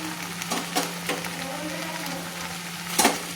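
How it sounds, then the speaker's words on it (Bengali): Egg pasta with vegetables and chopped coriander stirred in a pan over a low gas flame, a soft steady sizzle with a few light scraping taps of the spoon, no talking. "এবার আমি গ্যাসের ফ্লেমটা কিন্তু লো করে দিয়ে আমি নেড়ে নিচ্ছি।"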